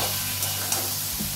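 Potatoes and pointed gourd fry in spiced oil in a pan, giving a steady close sizzle with a few small crackles and no voices.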